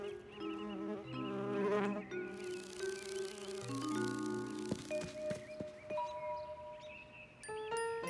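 Cartoon bee buzzing amid a busy, bright musical score with tinkling chimes and sustained tones, the buzz blended under the music throughout.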